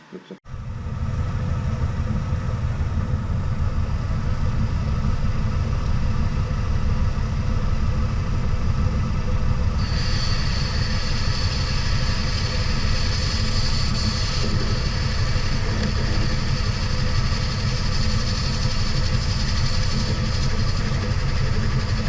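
A metal lathe cutting parts for swing arm dust covers on a classic Kawasaki Z1000, taking a tenth at a time. The machine hums and rumbles continuously and steadily at close range, and a higher cutting tone comes in partway through.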